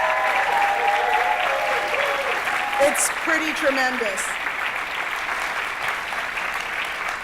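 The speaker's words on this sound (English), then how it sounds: "Can we just get one more round of applause for Abigail?" An audience applauds for Abigail, a sustained wash of clapping across the room, while a speaker talks briefly over it.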